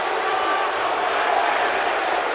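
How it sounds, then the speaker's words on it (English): A large arena crowd in the WWE 2K18 wrestling game roars and cheers steadily through a WrestleMania match, a dense, continuous wall of noise with no breaks. "The crowd well behind everyone in this matchup. They're fired up to be here"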